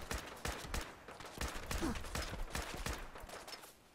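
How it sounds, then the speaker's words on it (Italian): Gunfire aimed at the player in the video game Fallout 4, a run of sharp, closely spaced shots popping in irregular bursts over a steady game background. "da lì mi sparano finalmente"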